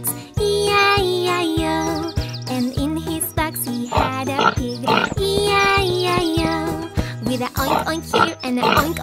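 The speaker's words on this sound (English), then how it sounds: "and a oink oink there, here a oink, there a oink, everywhere a oink oink" Pig oinks and grunts come through in a kids' nursery rhyme, repeated in quick succession over lively, rhythmic music with bright jingling touches, loud and up front throughout.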